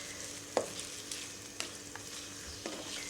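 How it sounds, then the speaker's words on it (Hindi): Sliced onions browning in hot oil for a biryani sauce give a faint, steady sizzle, with a few soft spoon knocks against the pan and no talking. "ऑयल गरम हो गया है तो अब इसमें मैं प्याज के स्लाइस डाल के"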